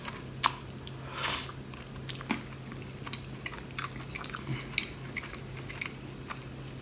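Someone eating a breakfast with a poached egg, close up and quiet: scattered soft bites, chewing and small crunchy clicks against a low steady hum, with no talking.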